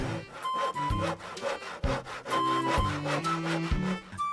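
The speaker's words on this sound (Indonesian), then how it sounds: "Kebetulan aku punya gergaji." A hand saw cuts through a wooden cross with steady, rhythmic back-and-forth rasping strokes, loud and close, with no voices over it.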